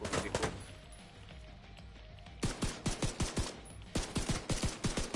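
Automatic weapon fire in the post-apocalyptic shooter The Division 2 comes in short rapid bursts, a quick volley, a pause of near quiet, then two more sharp rattling strings of shots, moderately close.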